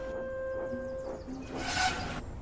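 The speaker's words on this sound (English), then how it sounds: "where Edward was pulling in with the Fat Controller on board his train" A train rolls in with a steady whistle-like tone that cuts off, followed by a burst of hissing steam and a brief squeal.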